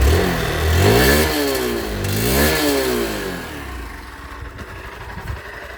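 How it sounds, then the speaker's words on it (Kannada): A 2026 Honda Unicorn motorcycle engine revving, its exhaust note climbing and falling through two close throttle blips before settling to a low, steady idle putter. "ನಿಮಗೆ ಈ ಒಂದು ಬೈಕ್ನ ಎಕ್ಸಾಸ್ಟ್ ನೋಟ್ನ ತಿಳಿಸ್ಕೊಡ್ತೀನಿ ನೋಡಿ, ಸೌಂಡ್ ಹೇಗೆ ಬರುತ್ತೆ ಎಕ್ಸಾಸ್ಟ್ ಇದ್ರದ್ದು ಅಂತ ಹೇಳ್ಬಿಟ್ಟು."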